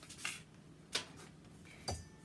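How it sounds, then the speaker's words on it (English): Three light clinks and taps sound as a stick of butter is unwrapped and dropped into a mixing bowl while baking cupcakes, each sound brief and close in a quiet kitchen. "So just unwrapping it here. And we're going to add in all of our butter."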